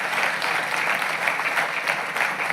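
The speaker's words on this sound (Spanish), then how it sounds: "denle un aplauso al Señor" A church congregation applauds during a sermon, with steady, full clapping from many hands that stays even and fairly loud throughout.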